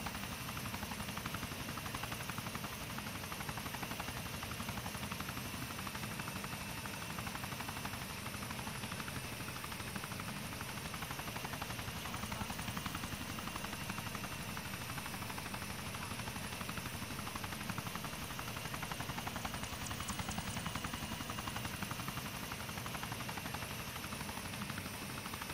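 A military helicopter in the game ArmA 3 drones with a steady, dense rotor and engine roar that fills the whole stretch without letup.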